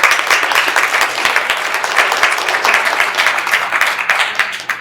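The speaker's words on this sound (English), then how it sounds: "Let's give him a round of applause." A room of people at a Capitol Hill event breaks into sustained applause, many hands clapping densely and steadily at close range for several seconds.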